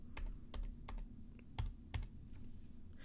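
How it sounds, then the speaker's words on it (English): Computer keyboard keys are tapped during timeline editing, with about half a dozen crisp, quiet clicks at uneven intervals over a low background hum. "The plus and minus keys on your keyboard."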